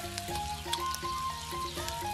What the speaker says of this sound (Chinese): 盐肉串也烤得滋滋冒油了